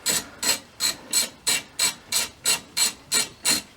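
A repeated ratcheting rasp from loosening screws on the front end of a 2017 Audi Q7, eleven evenly spaced, close strokes in a quick steady rhythm with nothing else heard.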